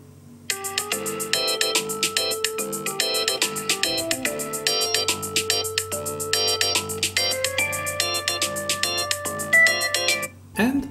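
An iPhone 11 ringtone plays on an incoming call, a bright repeating melodic pattern of chiming notes that runs loud and continuous for about ten seconds before cutting off.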